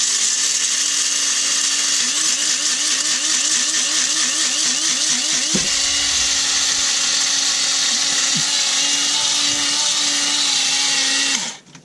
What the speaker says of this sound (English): he is going to plug it in now, powered by solar outlets, and he is going to grind the coffee